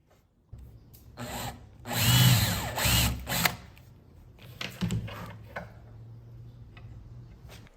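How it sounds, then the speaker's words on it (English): A power drill with a Forstner bit bores a recess into wood for a coffee table build, the motor whirring up in loud bursts with cutting grind and brief pauses, close and without talk. "This is where you'll make a recess with your Forstner bit for the washers to sit in."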